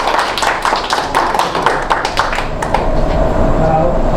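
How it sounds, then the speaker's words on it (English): A meeting audience gives a round of applause, dense close clapping that swells and then thins out toward the end. "A round of applause for Johnny Wong"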